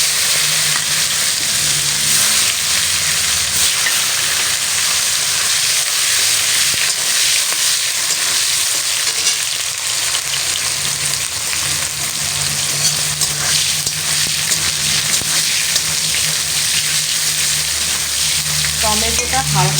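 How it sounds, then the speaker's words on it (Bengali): Chopped tomatoes frying with dried chilli in a hot pan for a Bengali fish curry, a loud continuous sizzle with occasional stirring scrapes, steady and close throughout. "এই যে টমেটোগুলো আমি এর মধ্যে দিয়ে দেবো"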